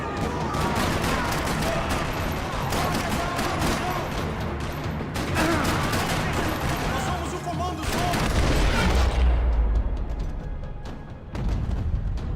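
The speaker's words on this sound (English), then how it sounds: "Another parking lot rattling with gunfire." Dense, rapid gunfire rattles continuously with sharp overlapping shots and booms, while voices shout faintly beneath the barrage.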